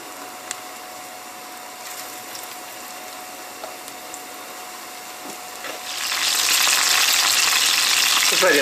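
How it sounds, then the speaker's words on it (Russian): A quiet kitchen hum gives way to loud, steady sizzling as pieces of fish hit hot vegetable oil in a single layer and keep frying. "наливаем масло растительное и начинаем обжаривать наши кусочки рыбы."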